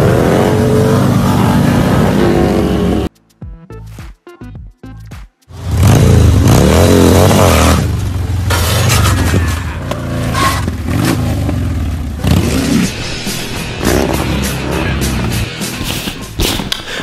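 A Harley-Davidson motorcycle engine revs loudly and close, a rough, sustained roar with surging throttle blips, a brief choppy cut in the middle, then rising and falling acceleration.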